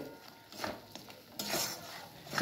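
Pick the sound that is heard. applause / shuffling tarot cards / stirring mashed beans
stirring mashed beans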